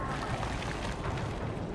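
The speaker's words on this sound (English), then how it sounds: "The explosion." A rumbling explosion in Dead Space 3 spreads as a dense, sustained roar across the whole range, steady and loud for nearly two seconds with no clear onset or decay.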